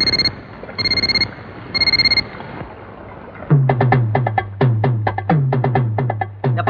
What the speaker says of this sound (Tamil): இது 1000 ரூபாய் வாட்சி. மணிக்கு ஒருத்தர் அலாரம் அடிக்கும், பயந்துடாதீங்க